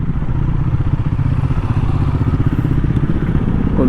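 A KTM Duke 390 BS4 motorcycle's engine, overheating, rumbles loudly and up close with a fast, steady pulsing throb and a clattery edge, running continuously without letup.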